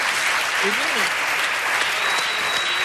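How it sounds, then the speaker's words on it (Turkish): Loud, dense applause from a talk-show studio audience fills the whole stretch, with a brief vocal sound early on. "Hadi bakalım alkışlar."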